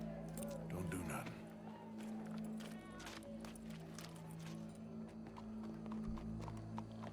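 Horse hooves clip-clop through a crowded Red Dead Redemption 2 game scene, a steady soft rhythm beneath a continuous bed of ambient crowd murmur and other game sounds, with voices nearby.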